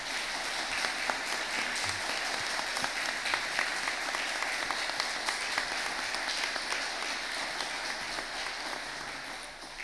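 A church congregation claps for its parish priest, a dense, sustained applause that fills the room at an even level and then slowly fades toward the end, with no talking over it.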